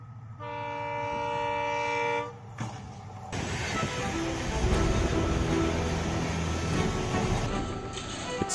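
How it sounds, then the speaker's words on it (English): A train rolls past, a steady tonal horn sounding for about two seconds before heavy rumbling and clattering wagons carry on loud and close. "This donkey is far too indifferent to the sound of the train bell"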